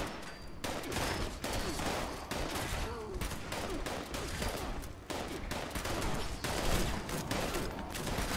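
Dense, loud gunfire in the video game Fallout 76, with rapid overlapping shots and bursts coming from several directions at once, nearly continuous throughout.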